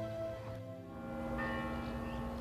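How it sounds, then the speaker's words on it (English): Church bells ringing in Girona, Spain, sounding for the proclamation of King Felipe VI, a steady sustained peal with lingering tones heard from a distance across the city, with no voices. "the bells you hear were signaling the proclamation of King Felipe VI of Spain in Madrid"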